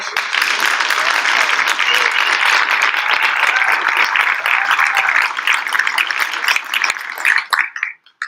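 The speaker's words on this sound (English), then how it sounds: "Let's have a round of applause." An audience at a Cincinnati mayoral debate breaks into loud, close applause, many hands clapping steadily before thinning out and stopping at the end.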